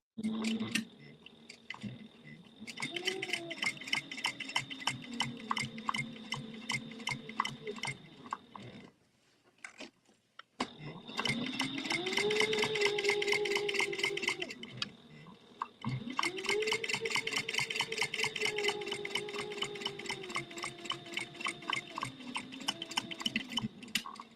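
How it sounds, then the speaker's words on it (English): A sewing machine top stitches fabric for a wristlet, a rapid, even mechanical clatter running in long bursts with a brief stop in the middle and a whirring motor tone underneath. "we're going to top stitch like the 1/8 of an inch seam allowance that we normally do"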